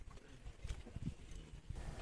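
Nonius horses on a Hortobágy breeding farm in Hungary move about, with a few soft, uneven hoof clops and shuffles over a muffled outdoor background.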